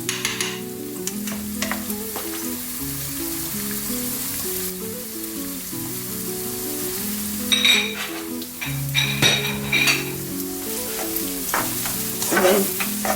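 Garlic and onion fry in a pan for a salmon and vegetable quiche, making a loud, continuous sizzle close up, with clinks and stirring scrapes scattered through it and a steady low hum underneath.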